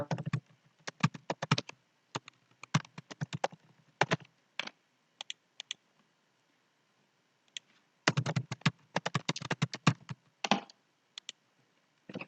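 Keys clatter on a computer keyboard in close, crisp bursts of rapid typing separated by brief pauses, alone and without talk.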